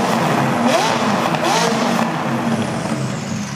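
A modified, non-stock Mercedes C63S AMG engine tuned past 600 horsepower, given a few light throttle blips: a loud, close, roaring engine note with slight rises in pitch that holds steady throughout.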